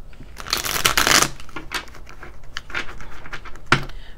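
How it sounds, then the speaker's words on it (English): Close, crisp riffling of a small card deck being shuffled, a long burst followed by several shorter flutters and a final quick snap. "They're easy to shuffle."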